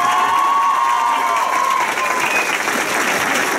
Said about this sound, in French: À son arrivée dans la salle, il est accueilli très chaleureusement par de longs applaudissements.